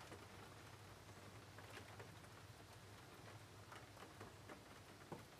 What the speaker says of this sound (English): invite the calm and peaceful symphony of falling rain into your bedroom